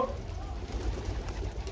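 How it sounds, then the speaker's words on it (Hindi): Pigeons coo softly on a rooftop beside a mosque wall, a low, continuous murmur that stays close and steady over a faint background hum. "हाँ नया कबूतर है तो भाई"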